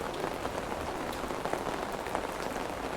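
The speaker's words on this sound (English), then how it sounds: "I'm in Venice and it's raining pretty hard" Heavy rain pouring in Venice, a dense, steady hiss of drops pattering on surfaces, loud and continuous with no talking.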